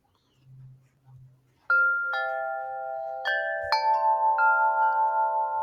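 Deep, resonant 42-inch Corinthian wind chimes struck one after another, four or five tones ringing out and overlapping in a sustained, shimmering chord after a quiet start.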